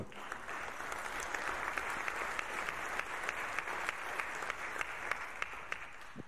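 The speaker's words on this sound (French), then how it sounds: "On peut vraiment applaudir Sandrine" Steady applause from an audience rolls on for several seconds, a continuous wash of clapping with a few sharper individual claps standing out, heard at moderate distance.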